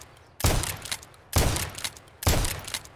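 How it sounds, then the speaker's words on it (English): Three heavy, booming shotgun blasts from an M87 firing AP slugs in the Escape from Tarkov game, each followed by a short decaying tail, spaced roughly a second apart. "How about some AP slugs out of the good old M87?"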